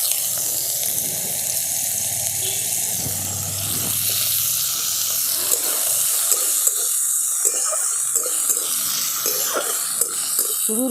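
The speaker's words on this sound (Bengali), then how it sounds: "এরপর দিয়ে দিচ্ছি এরকম ডুমো ডুমো করে কেটে রাখা আলু।" Diced potatoes fry in a wok of mustard oil with a steady watery hiss and sizzle, punctuated by light clinks and stirring toward the end.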